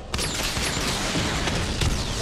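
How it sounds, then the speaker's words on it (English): In Batman Arkham Knight, a missile barrage fires as a loud, dense volley of crackling blasts and booms that continues without a break for the whole stretch. "Charge up missile barrage to level 2 and destroy 4 active targets"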